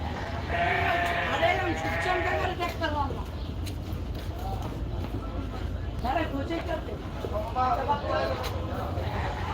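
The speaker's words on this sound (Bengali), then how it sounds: "ওই যে বেড়া ডাকতেছে" Sheep bleat repeatedly at a busy cattle market in Gabtoli, Dhaka, with several loud, wavering cries close by over a constant crowd murmur and people talking.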